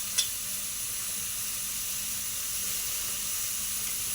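Chopped onion sautés in a pan for cheesy masala macaroni, giving a steady, close sizzling hiss that holds an even level throughout, with one faint tap near the start.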